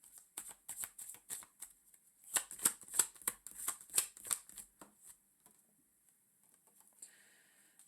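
Tarot cards are shuffled and drawn close up, giving bursts of crisp flicking and riffling clicks. After a few seconds the clicks stop and near silence follows.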